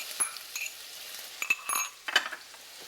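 Food in a pan is stirred with a metal utensil over a low to medium flame, making light scrapes and clinks against a faint sizzle, with several distinct strokes close up and no talking.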